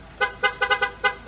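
A 12-channel horn module fitted to a Ford Ranger blasts a series of short, loud, bright honks in an irregular stuttering rhythm, about seven quick bursts close to the mic.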